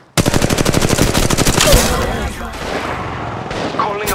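Rapid automatic gunfire in a video game, a loud fast string of shots followed by more scattered bursts and impacts, with the firing continuing to the end.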